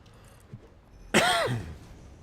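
A single harsh cough or throat-clear bursts out close by, brief and loud, then fades into quiet room noise.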